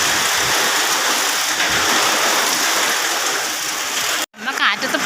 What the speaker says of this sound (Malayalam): ഇതെന്താ ഇങ്ങനെ കാറ്റടിക്കുന്നത്?